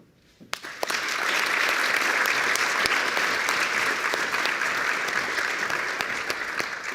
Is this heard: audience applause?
yes